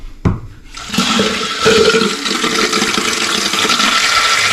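After a brief knock, water rushes and hisses steadily, like a toilet tank refilling up close after a new float is fitted, continuing without pause.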